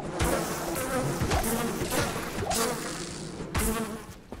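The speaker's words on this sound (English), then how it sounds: "Those are bees or what?" Buzzing bee swarm in the video game Diablo 2, a steady insect drone filling the whole stretch with a few louder swells, close and loud with no talk over it.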